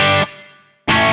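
A guitar run through the room reverb setting on a Mooer Prime P1 pedal plays a short loud chord that cuts off into a brief fading reverb tail before another strike.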